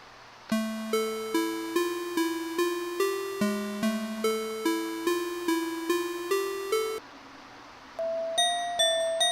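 Bell preset from Reason 9 music software playing a plucked mallet-style melody, bright ringing tones struck in a steady rhythm, then briefly stopping and resuming on a higher note.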